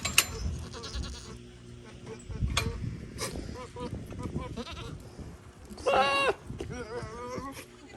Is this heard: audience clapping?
no